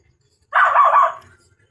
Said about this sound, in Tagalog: Ayun yung tumatahol